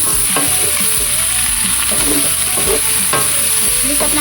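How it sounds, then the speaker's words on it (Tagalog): Chicken feet sauté in a hot pan, giving a steady loud sizzle with repeated scraping and clattering as a utensil stirs them, close up and without talk. "Bigisa lang muna natin."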